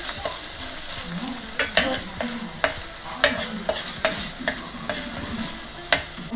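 Ginger garlic paste sautéing in a hot pan under a spatula, close and clear, with a steady low sizzle broken by repeated sharp scrapes and clacks against the metal. A voice briefly says one word.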